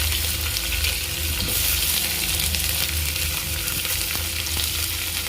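Sliced big onions frying in oil with cinnamon, cloves, green chillies and fennel for potato kurma, a loud, dense, continuous sizzle close to the pan, with occasional stirring.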